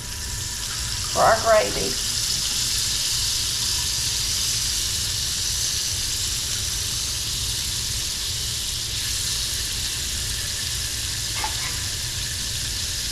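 Butter sizzles and fries in pan drippings for a country-style gravy, a steady broad hiss filling the whole stretch while a voice briefly speaks over it near the start.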